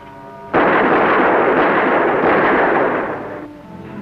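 Gunfire in a 1958 film, heard as a loud, continuous roaring blast that starts abruptly, holds for nearly three seconds and then fades out.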